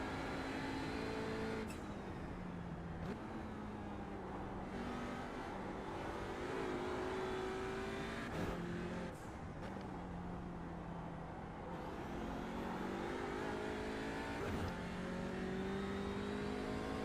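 Race car engine in the iRacing sim at the Nürburgring 24-hour race, revving hard toward redline with rising and falling pitch and gear-change dips, loud and continuous throughout.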